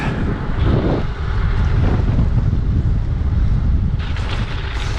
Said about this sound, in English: There's so much wind. There's so much wind coming back.